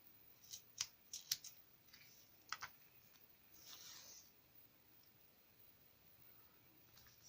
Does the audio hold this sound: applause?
no